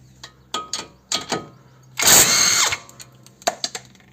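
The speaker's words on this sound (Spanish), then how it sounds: "vamos a quitar los de la rótula, los tres de la rótula" Power tool loosening the three suspension ball joint bolts on a Seat León, with short bursts around one second apart followed by a longer, louder whine at close range; no talking.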